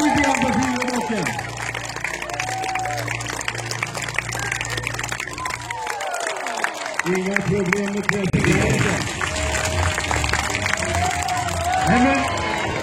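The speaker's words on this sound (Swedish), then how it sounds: "Kom igen nu, publiken! Heja på lite grann på Silverbocken!" Crowd at a castle jousting tournament cheering and applauding a rider, a loud sustained roar of clapping and shouts, with an announcer talking over it and children's voices rising at moments.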